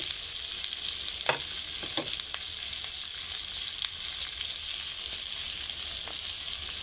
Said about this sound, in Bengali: এবার খুব সুন্দর করে ভেজে নেব আলুগুলোকে।